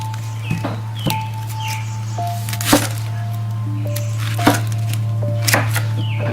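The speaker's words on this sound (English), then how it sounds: "So we're going to take some onion, top and tail, cut it in half." Knife cutting through an onion on a board, topping, tailing and halving it: a handful of sharp, separate chops spaced a second or so apart over a steady low hum, close and fairly loud, with no talking.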